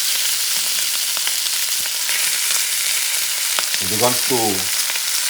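Buffalo meat sears in a hot pan at high heat, giving a steady, bright sizzle throughout, with someone speaking briefly near the end.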